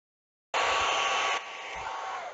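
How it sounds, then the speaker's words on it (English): A hair dryer switches on abruptly and blows over polymer clay with a steady, loud whoosh, dropping slightly in intensity partway through, with no voices. "I'm just going to run the hairdryer over it for about 30 seconds"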